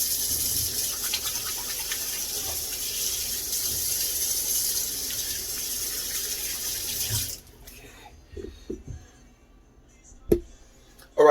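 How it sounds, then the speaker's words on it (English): A kitchen tap runs in a steady loud hiss while hands are washed under it during cooking, then it shuts off, leaving a few clinks and handling sounds. "So let me wash my hands once again real quick."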